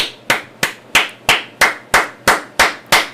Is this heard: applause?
yes